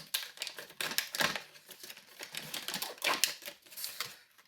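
Keys for a Mottura Champions CP6 lock jingle and clink as they are handled close by, in a steady run of light metallic clicks and rattles with no talking.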